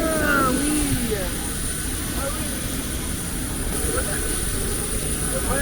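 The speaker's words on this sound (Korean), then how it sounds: "비행기 출발한다" Inside a large passenger plane departing Jeju, a steady broadband engine roar fills the cabin, with people talking and a voice over it.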